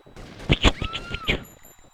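Gunfire in the video game GTA Vice City, a quick cluster of several sharp shots fired within about a second, punchy and close with a short ringing tail.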